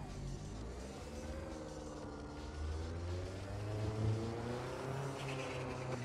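Race car engine in the Assetto Corsa driving game, a steady mid-level drone with pitch slowly rising and falling as the car is driven, fairly quiet with no talk over it.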